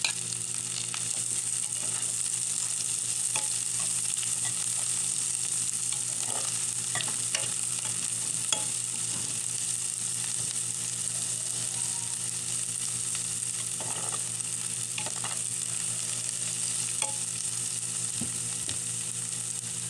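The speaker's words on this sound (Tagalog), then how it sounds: "igigisa ko na po ang aking bawang dyan. Sunod na po natin ang sibuyas." Garlic and onion sauté in a pan at home, a steady hiss and crackle with occasional stirring scrapes under a constant background hum, with no voices.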